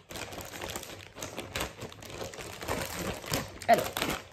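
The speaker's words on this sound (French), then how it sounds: "je vais le déballer. Je vais tout déballer" Close crinkling and rustling of a plastic pouch as a Dreamstitch cross-stitch kit is unpacked, irregular handling noises with small crackles throughout, and someone speaking French alongside.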